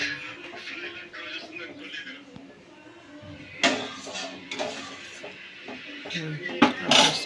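A spoon or spatula stirs semiya upma in a pan on a gas stove, making scraping strokes and light metallic clinks under a voice speaking Telugu.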